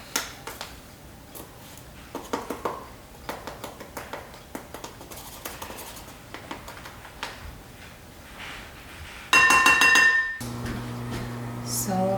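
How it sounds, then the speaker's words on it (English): Dry ingredients for keto cornbread are mixed in a bowl, making a run of light, irregular clinks and taps of a utensil against the bowl, followed near the end by a louder, different burst of noise. "So just mix the dry ingredients up, incorporate all of that."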